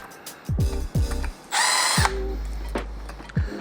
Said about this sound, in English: which is these 4 bolts, which we have to take out. So you can do it by hand, or get your trusty screwdriver.